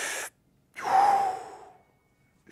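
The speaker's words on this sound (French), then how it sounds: "prends un grand respire" A deep breath in during a back-care exercise, one loud, close, rising inhalation that fades out, with short silences around it.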